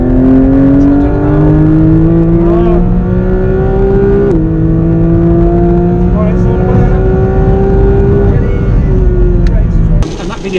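Porsche 981 Boxster GTS exhaust, loud and close, climbing in pitch through a long rev with a brief shift dip midway, a steady rising engine roar that cuts off at the end.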